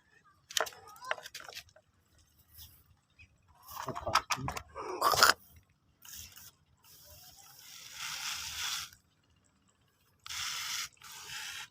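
A hand pump sprayer applies fungicide to mildew-infected grape vines, aiming under the leaves. Several short, hissing spray bursts come up close, mixed with mechanical pumping clicks and quiet gaps between them.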